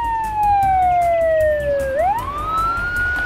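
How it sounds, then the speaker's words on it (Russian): A police siren wails steadily, its pitch gliding down and then sweeping back up, loud and close with no other sounds around it. "Включив сирену, она быстро догнала и остановила желтое такси."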